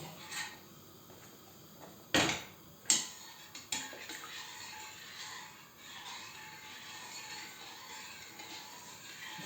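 A spoon stirs tarhana soup in a pot: faint quiet scraping under low background hiss, with a few sharp metallic clinks of utensil against the pot.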